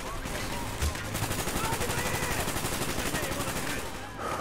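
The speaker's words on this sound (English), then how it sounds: "I am really getting shot" Dense gunfire in the Call of Duty Black Ops campaign, rapid machine-gun bursts and overlapping shots rattling continuously and loudly, with a sharp louder crack near the start.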